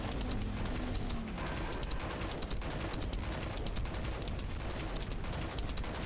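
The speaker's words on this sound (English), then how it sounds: "so I'm using my gun that has poison" Rapid, continuous gunfire from a poison gun in the shooter The First Descendant, loud dense bursts that run without a break throughout.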